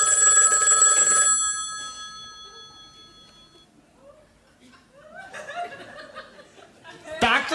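Telephone ringing in a comedy sketch on stage: an old-style bell rings loudly for about a second, then fades. Murmuring audience laughter and chuckling follow.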